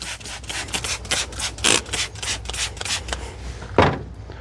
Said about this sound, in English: let's at least clean the air filter housing here.